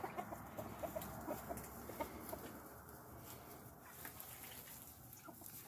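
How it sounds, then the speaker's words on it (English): Soft clucks and low chatter from a rooster kept upstairs in a coop near a mother silkie hen and a duck, with short intermittent calls, fairly faint and distant over a steady background hum. "And this is upstairs rooster."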